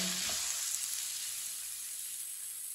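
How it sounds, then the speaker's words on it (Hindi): Vegetables sizzle in a pan while being half-fried for an omelette, a steady soft hiss with a brief stir at the start, close and without talk. "सब्जियों को मैंने हाफ फ्राई कर ली है, 3 मिनट के लिए पका लिया है।"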